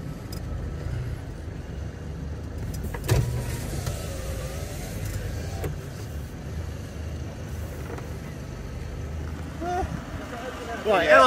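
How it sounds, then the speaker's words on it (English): A Steed all-terrain vehicle driving across a dangerous off-road track, its engine droning steadily throughout with a few knocks and bumps, while people talk nearby. "now let's get the Steed across this section now"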